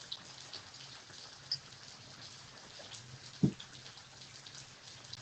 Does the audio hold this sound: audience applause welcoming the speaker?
no